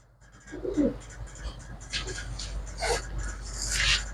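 Pigeons of a pure bloodline breed coo close by in a few soft, throaty bursts, with rustling and handling noises and a low background hum between the calls.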